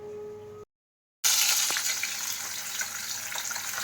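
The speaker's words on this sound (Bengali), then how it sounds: "যে কড়াতে তেল দিয়ে দেওয়া হচ্ছে আগে দিয়ে মাছগুলো ভেজে নেওয়া হবে" Fish rubbed with salt and turmeric hits hot oil in a wok: after a brief quiet pause, a loud burst of hissing sizzle starts and settles into a steady, close, bubbling fry.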